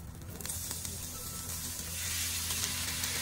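Monjayaki batter sizzles on a hot griddle in a late-night Tokyo restaurant near Asakusa, giving off a soft, steady frying hiss that grows slightly toward the end.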